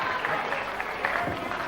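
A capacity crowd in Loughborough Town Hall applauds at a lunchtime boxing match, a dense, steady wash of clapping with some voices mixed in.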